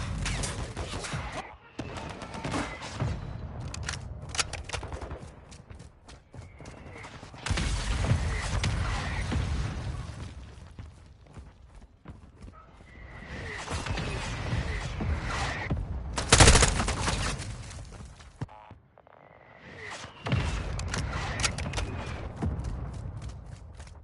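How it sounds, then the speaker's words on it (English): Sustained gunfire and machine-gun bursts fill a Call of Duty DMZ firefight, with heavy volleys, a sharp blast near the middle, and brief quieter gaps between loud, dense stretches of shooting. "Taking effective fire!"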